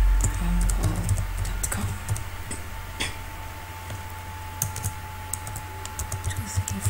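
A computer keyboard typing text into a web sign-up form: a quick run of light, crisp keystroke clicks close by, over a steady electrical hum, with someone speaking at times.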